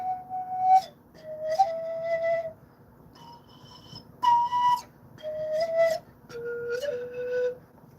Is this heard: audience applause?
no